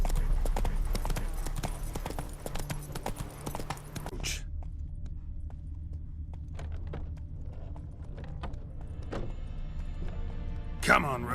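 Hooves of Roach, a horse in The Witcher 3, clip-clop in a steady rhythm at close range, fading to near silence midway before a few more hoof strikes, with a short spoken line.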